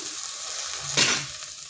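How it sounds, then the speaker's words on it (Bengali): Okra sizzling steadily in a hot pan, a constant crackling hiss with a brief louder burst of stirring in the middle; no talking. "বেশ কিছুক্ষণ ঢেঁড়সটাকে এভাবে ভেজে নিতে হবে"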